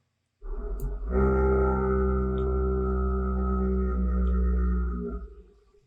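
A Minecraft goat horn, slowed screaming-goat variant: a single long, low, droning horn-like blare, slowed and deep, swelling in and holding for several seconds before fading out.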